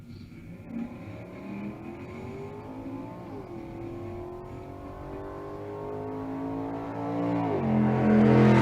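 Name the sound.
drag race launch, old hot rod and S197 Mustang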